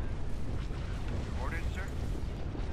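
Missile launches and explosions from a Star Wars: Empire at War space battle form a constant, loud rumbling barrage of booms, with a brief faint voice under the din.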